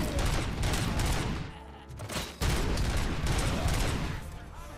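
Dense, continuous gunfire in the video game RoboCop: Rogue City, rapid overlapping shots filling the whole stretch with only a brief lull in the middle, loud and near.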